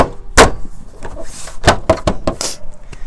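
A plastic side skirt sill cover is knocked into place on an Alfa Romeo GTV, giving a series of loud, sharp thumps and taps in an irregular rhythm close by.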